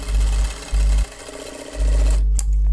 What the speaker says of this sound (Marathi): वरच्या बाजूला सुद्धा अगदी कॉर्नरला शिलाई करायची